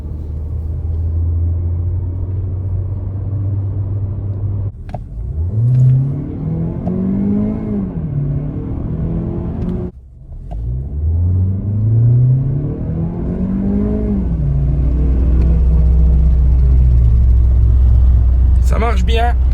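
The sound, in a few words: car engine revving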